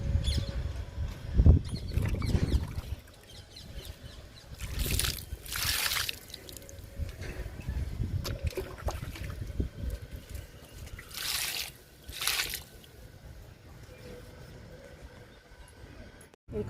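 Liquid fertilizer poured from a container onto drumstick (moringa) plants in a garden, heard as soft trickling and splashing bursts that come and go over quiet outdoor background noise, with a few louder gushes.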